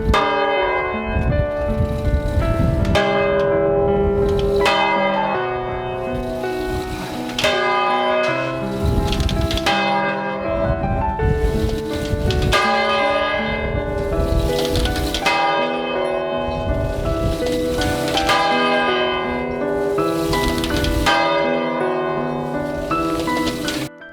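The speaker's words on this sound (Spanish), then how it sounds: "Media vuelta a la campana para que toque una vez y otra vez" A church bell rung by swinging it a half turn peals loud and close, with strong, regular strokes and long ringing overtones that overlap across more than twenty seconds, no voices.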